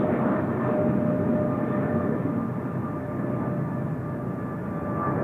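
A steady, loud roar of an airplane engine during takeoff at Seoul Incheon Airport, a broad sustained rumble with a faint whine, constant throughout with no talking.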